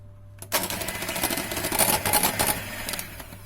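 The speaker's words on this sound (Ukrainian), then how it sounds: "Жовтки збиваємо до кремового кольору." Egg yolks being whisked in a bowl for a cheesecake, a fast steady clatter of a whisk or mixer that starts abruptly after a quiet moment and runs continuously, fairly close.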